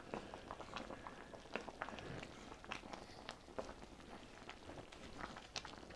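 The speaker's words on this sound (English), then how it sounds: "let's get over here and give this guy a stir" Chicken and mushroom pot cobbler filling stirred in a pot, quiet bubbling with soft scrapes and irregular small clicks of a utensil against the pot, close and faint, with no voices.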